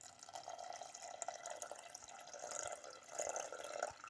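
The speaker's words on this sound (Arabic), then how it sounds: "دوك نضيف لها الماء ونخليها طيب" Water poured into a pan of fried onions while cooking chicken balls, giving a steady broadband rush and hiss for about four seconds, close and fairly loud with no talking.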